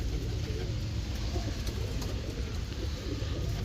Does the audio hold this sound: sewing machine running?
no